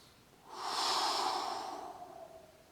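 One long, slow, controlled breath during a tai chi exercise, rising and fading over a couple of seconds, close and clear with no talking.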